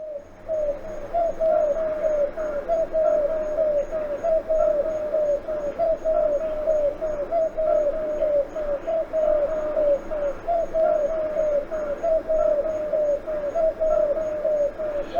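A Eurasian collared dove coos in a steady repeating rhythm, a soft low three-note call phrased over and over without pause, clear and fairly close, in a Mississippi back yard.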